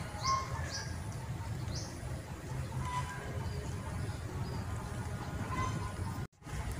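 Scattered short chirps and calls of a tledekan bird lure recording ring out over a low, steady background hum, fairly faint and spaced apart.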